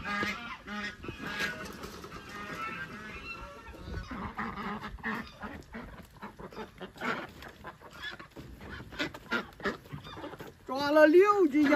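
Geese and ducks kept on a farm pond, with the geese giving loud, nasal honks and clucking calls in irregular bursts, a louder run of honks near the end, mixed with nearby handling noise and background talk.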